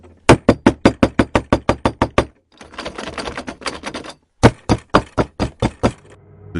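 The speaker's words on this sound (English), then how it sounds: "the doorknob began turning and rattling, like someone from the inside was trying to get out" A doorknob rattles in rapid bursts of sharp, loud knocks and bangs against a door, with a scuffling rattle between the bursts, a spooky horror sound effect.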